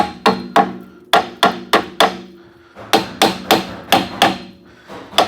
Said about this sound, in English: I'll just knock the caliper about.